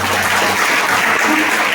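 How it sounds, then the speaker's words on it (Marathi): A church congregation clapping together, a loud, dense and continuous burst of applause filling the whole moment without a break. "टाळ्या वाजवा ना."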